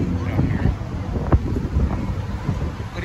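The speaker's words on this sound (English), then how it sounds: "It's like just windy, breezy out here." Steady wind rumbles and buffets the microphone outdoors in Las Vegas, Nevada, a low continuous roar with a few gusty bumps.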